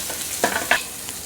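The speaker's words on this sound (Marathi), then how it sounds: "मिरच्या चांगल्या भाजल्या की हा कांदा टाकून घ्यायचा" Onion and chillies fry in a pan for an okra dish, a short close sizzle with a couple of quick stirring scrapes.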